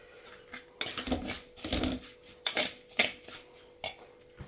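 Fish curry of snakehead fish being stirred in a pot, with a run of scraping, clinking utensil strokes against the vessel in uneven bursts, close and fairly loud, with no talking.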